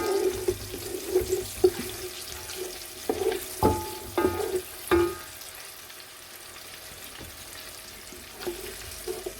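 Onions stir-fry in a pan for aloo bhujiya, a soft steady sizzle broken by clinks and scrapes of a utensil stirring against the pan.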